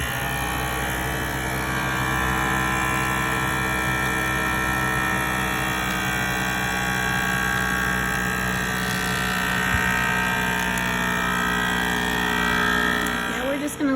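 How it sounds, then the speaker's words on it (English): A vacuum sealer runs on a bag of frozen peas, giving off a steady electric hum and whir with a constant drone that holds through the whole stretch before cutting off near the end. "Now we're going to vacuum seal it."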